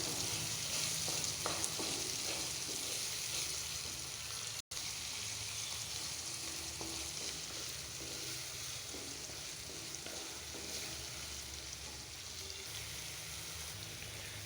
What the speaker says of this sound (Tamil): கண்ணாடி பத அளவு வெங்காயத்தை நல்லா வதக்கணும்